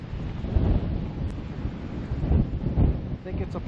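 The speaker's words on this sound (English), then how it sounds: "A lot of wind." Strong wind buffets an outdoor garden, a loud, steady rumbling roar with gusty swells and no clear pauses.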